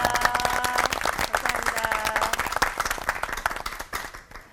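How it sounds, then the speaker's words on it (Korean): Audience applause for three pastors at a church talk program, loud close clapping with distinct sharp hand claps in a fast, uneven rhythm, tapering off toward the end. "귀한 말씀 나눠주신 세 분의 목사님께 큰 박수 부탁드리겠습니다."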